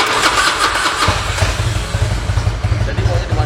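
A Harley-Davidson motorcycle engine with a carburetor cranks and catches, settling into a loud, rhythmic low idle pulse close by, with voices talking over the start.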